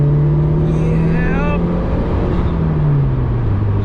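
A turbocharged Subaru WRX track car accelerating hard in third gear, a loud steady engine drone from inside the cabin with a rising whine, and a voice speaking briefly over it.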